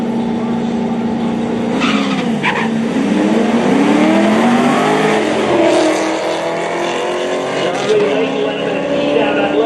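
Drag racing cars, including a 2007 Cobra and a 2015 Camaro SS on radials at a no-prep outlaw event, roar loudly and continuously as they launch down the strip, with engine pitch rising and brief tire squeal bursts.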